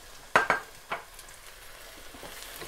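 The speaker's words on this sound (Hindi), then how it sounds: "कीमे को अब हम इसमें अच्छे से भूनेंगे।" Minced mutton is stirred into a pan of onion, ginger, garlic and chilli, with a few sharp utensil scrapes early on over a faint, steady frying sizzle; no one speaks.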